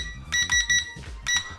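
A cheap Mavic Pro clone drone controller gives short, close electronic beeps in quick bursts as its speed switch is changed, a brief pause between two groups.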